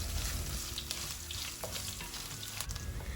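Ginger slices frying in oil in a pan for Kerala fish curry, a continuous close, crackling sizzle with faint stirring.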